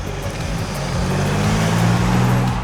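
2023 BMW X5 with a 3-litre diesel hybrid engine driving: a loud, steady road and engine rumble that gradually swells, heard alone without talk.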